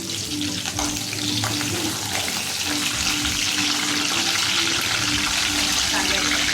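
Curry leaves, bay leaves and asafoetida fry in hot oil in a pan while a Malvani chicken kaleji masala is being made. A steady, close sizzle runs throughout with faint background hum and occasional stirring.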